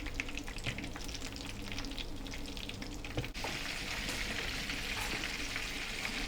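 Prawn and spinach samosas fry gently in medium-hot oil, a steady soft bubbling sizzle with faint clinks and stirring, no voices.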